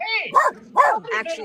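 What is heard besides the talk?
dog barking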